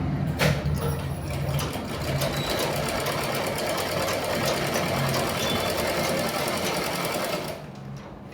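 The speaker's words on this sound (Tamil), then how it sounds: "இப்போ இதை வந்து அழகாக மடித்து தைக்கிறோம்" A sewing machine runs steadily, stitching a folded fabric seam in a continuous close whirring hum that fades slightly at the very end.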